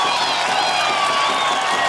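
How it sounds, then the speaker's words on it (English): At a commencement ceremony for a course on radiation risk communication, an audience claps and cheers loudly, a dense, continuous roar with whoops layered over the clapping. "for the first few, we'll have a round of applause after each one."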